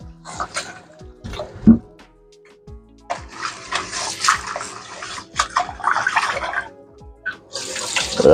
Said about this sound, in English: Now wash the rice, guys.